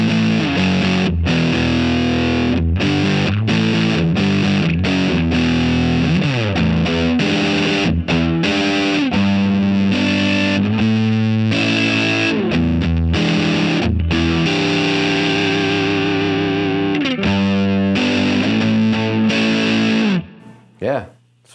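An electric guitar on the bridge pickup plays through a handmade Mosky Obsessive overdrive pedal, giving a thick fuzzy distorted tone with continuous chords and riffs, loud and close, before it cuts off near the end.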